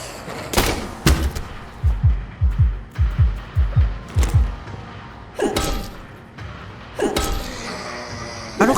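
Gunfire in the horror video game Tormented Souls: several sharp, loud shots spaced irregularly, mixed with a quick run of heavy rhythmic thumps and mechanical clanks, with no speech.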